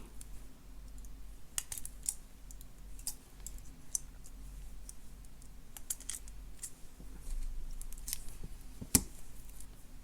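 Small cutters snipping off excess wire while making a multi-strand bead necklace: faint, scattered crisp clicks and snips over a quiet room background, with no talking.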